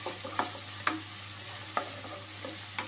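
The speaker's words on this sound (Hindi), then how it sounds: "ये 3 लौंग, ये 8-10 काली मिर्च, और इनको लगातार चलाते रहेंगे" Cloves and black peppercorns frying in a pan while being stirred continuously, a soft steady sizzle under several sharp scraping strokes of the spoon, close and unaccompanied by speech.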